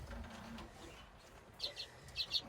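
Lesser Redpolls in a breeding cage, a few faint high chirps in two short bursts over a low, quiet indoor hum.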